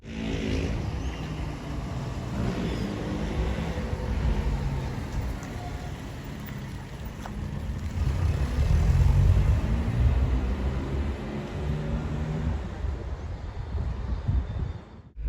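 A 1991 Chevrolet Chevette drives along a road and pulls out to overtake, its engine a steady low drone heard from inside the cabin with rising road and wind rumble midway, and someone talks over it.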